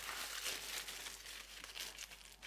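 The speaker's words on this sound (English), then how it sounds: "I'll just put it in some foil to keep it together." A whole garlic head being wrapped in aluminium foil gives off steady, close crinkling and crumpling for a couple of seconds, fairly faint and with no talking.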